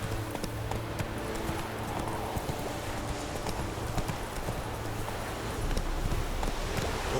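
A horse galloping in The Witcher 3, hooves clip-clopping in a fast, steady rhythm, close and continuous with faint rustling behind.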